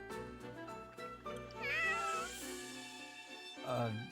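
A cat meows in the game Fire Emblem Warriors: Three Hopes, a long drawn-out rising meow followed by a shorter second cry, heard up close against a soft musical background.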